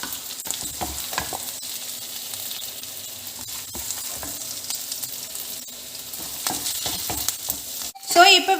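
Ginger, garlic and onion sautéing in a pan for a potato dish, with a steady low sizzle under repeated scraping stirs of a spoon, ending in a louder clatter.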